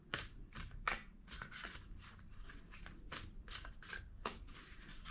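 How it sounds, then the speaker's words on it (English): A deck of tarot cards is shuffled by hand in a quiet room, making a rapid series of crisp, papery riffle bursts, close and clear, with no talking. "Two more shuffles."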